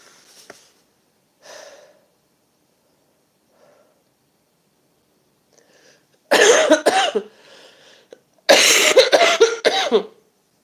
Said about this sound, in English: Can't get rid of a cough.